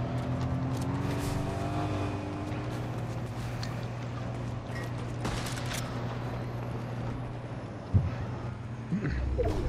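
A car engine hums steadily throughout in the Fortnite video game, with a sharp thump near the end, heard alone at moderate loudness.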